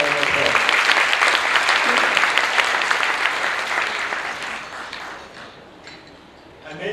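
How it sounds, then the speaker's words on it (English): At a Rotary meeting, an audience gives a big round of applause: thick, sustained clapping from many people that slowly tapers off over several seconds, leaving a quiet room before a voice begins. "please give him a big round of applause"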